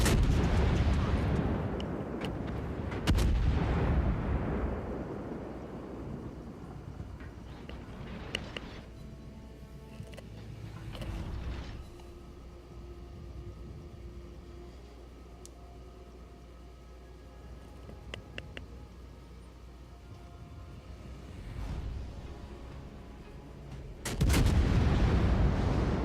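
Heavy warship gunfire from a naval battle video game: deep booming salvos at the start and end with rumbling decay between, over a steady low game drone, no talking.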